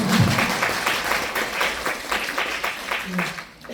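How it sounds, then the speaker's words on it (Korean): Applause from the audience at a book talk on law, a steady round of clapping that holds for several seconds and then tapers, with brief voice sounds at the start. "여러분 또 박수 칠 때가 됐습니다"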